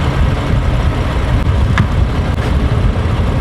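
A BMW F80 M3 engine runs loudly and steadily nearby, a constant low rumble with a brief faint click partway through.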